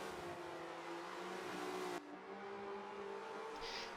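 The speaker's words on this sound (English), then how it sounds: "for Anons, as he is going to cross the start-finish line to start the final lap of the final race of the TFG Volvo Spec Championship." Volvo touring car in a racing video game at Bathurst, engine droning loud and steady throughout the final lap, with a brief shift in tone midway and a short higher squeal near the end.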